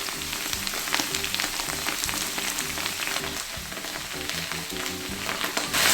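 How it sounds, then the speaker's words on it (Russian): Steady, dense sizzling of potatoes frying in a hot pan, with occasional faint stirring scrapes and no talking. "оставляем картошку жариться"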